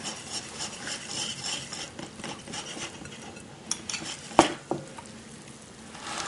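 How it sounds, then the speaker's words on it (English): Flour is whisked into a batter in a bowl with soft, rhythmic scraping and stirring, and a few sharper clinks of the whisk against the bowl near the end. "At this point, we can whisk."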